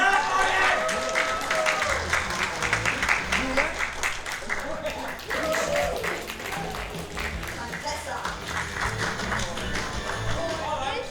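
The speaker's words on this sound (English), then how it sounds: "clap really hard when you hear a name you like" A theatre audience claps hard to vote for a title at a student comedy show, a sustained burst of clapping mixed with crowd noise and a speaking voice.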